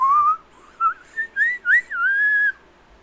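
A person whistling inwards, a series of short breathy high notes sliding up and down in a halting rhythm, then one longer held note, close and alone.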